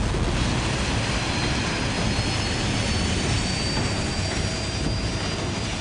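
A jet engine roars with loud, steady thrust on a homemade jet-powered vehicle, a dense continuous rushing blast with faint high whine, holding level for the whole stretch with no talk.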